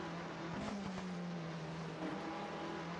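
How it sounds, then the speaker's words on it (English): An Alpine Renault Formula 3 race car from the 1973 British F3 championship, its engine droning at a steady high pitch and wavering slightly as it passes, heard faintly and distantly with no talk. "you can hear that engine note for the Alpine is quite different than the other cars"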